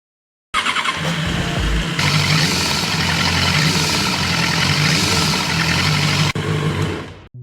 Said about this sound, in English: let you hear the sound it makes when revving